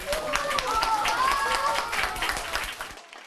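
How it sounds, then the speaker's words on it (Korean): Elementary schoolchildren in a Seoul classroom cheer and clap at once, excited shouts and high voices mixed with brisk applause close by, then the sound cuts off abruptly. "마침내 남북 두 정상이 판문점에서 역사적인 만남을 갖자 환호성과 박수가"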